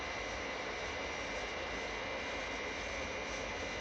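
Jet airliner engines roaring during descent, a steady, dense, even drone with no breaks, constant and loud throughout.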